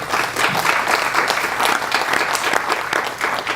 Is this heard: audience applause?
yes